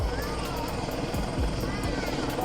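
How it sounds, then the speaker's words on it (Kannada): A helicopter at a village fair passes overhead with a steady, close rotor drone and rhythmic blade chop, while people talk through it. "ಹೆಲಿಕಾಪ್ಟರ್ ಪೂರ್ತಿ ಮ್ಯಾಲ ಹೋಗಿ ಹೂ ಹಾರಿಸ್ಬೇಕಾಗತ್ತೆ"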